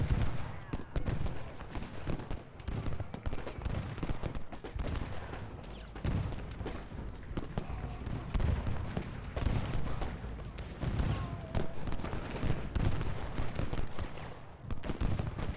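Musket and cannon fire rolls across a battlefield in the Civil War strategy game Ultimate General Gettysburg, a dense, continuous crackle of distant volleys with heavier booms, under a speaker's talk.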